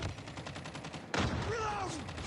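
Gunfire from the Call of Duty Mobile video game crackles in a dense, rapid burst, with a sharp loud shot cutting in partway through and game voices mixed in.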